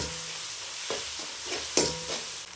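Chopped onions sautéing in a pan for a village-style goat intestine fry, a steady soft sizzle broken by several scraping stirs of a spoon against the pan.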